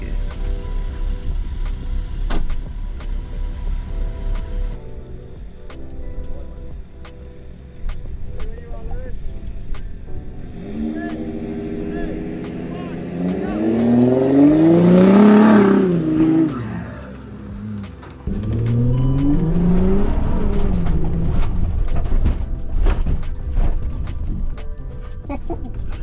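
A VW Touareg in sport mode with traction control off accelerates hard, the engine note rising loudly through the gears with rising and falling revs, close and prominent over road noise, a voice speaking at times.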